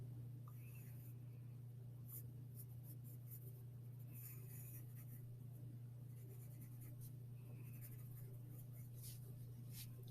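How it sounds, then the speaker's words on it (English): Colored pencil scratching lightly on paper while quickly sketching a swan, faint soft strokes in short bursts over a steady low hum. "I will just make a quick sketch of the swan."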